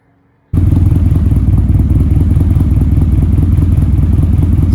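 A cammed Nissan 240SX engine with an ISR Series 2 exhaust starts up loud and close, settling into a choppy, lumpy idle that pulses steadily with no talking over it.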